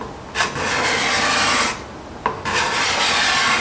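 An Accu-Burr scraper drawn across wood, raising curling shavings: close, raspy scraping strokes, three or four in a row with short pauses between them and no talking.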